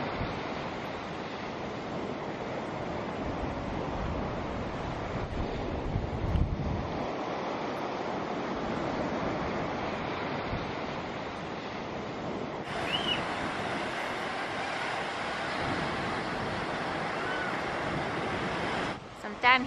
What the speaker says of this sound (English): beautiful waves rolling in and they tumble pebbles beautifully